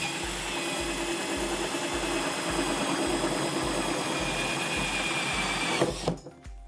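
A drill cuts a 2-inch hole in a box with a steady, mid-level whirring drone and a regular low pulsing throb, then winds down abruptly near the end.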